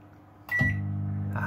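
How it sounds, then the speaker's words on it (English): A microwave oven starts up with a click and settles into a loud, steady hum while melting vegan cheese, close and alone. "Into the microwave."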